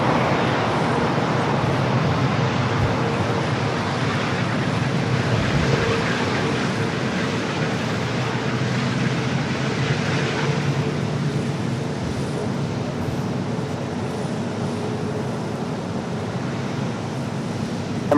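Airliner rolling out fast on the runway after landing at Los Angeles LAX, heard as a steady broad roar of engine and wind noise that fades slightly toward the end, distant and continuous.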